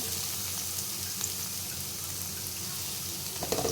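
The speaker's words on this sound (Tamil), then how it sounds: "இப்போது வெட்டி வச்ச வெங்காயம் சேர்த்துக்கிறேன்." One large chopped onion frying in a pan for a home dinner, giving an even, faint, continuous sizzle with a few small clicks near the end.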